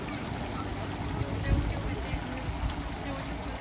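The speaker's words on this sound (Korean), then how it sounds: "신사에서는 이렇게 물 흐르는 소리를 듣는 즐거움도 있죠" Water flows steadily at a modern shrine in Tokyo, a continuous soft rushing wash with faint splashes, heard alone without talk.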